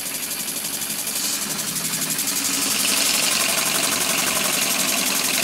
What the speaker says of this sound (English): It's a good running engine